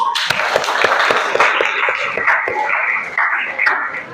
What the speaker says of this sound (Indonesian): Tepuk tangan dulu untuk Michelle sama Rizky